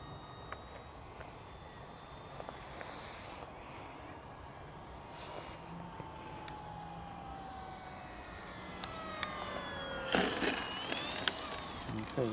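An Arrows Hobby Bigfoot RC plane whines faintly in the distance as it practices a landing, the thin motor tone sliding in pitch over steady wind noise and growing a little louder near the end.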